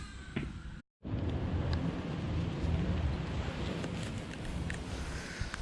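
Steady rain falls outdoors as a continuous hiss and patter, close and moderately loud, with a brief cut near the start and light wind rumble underneath.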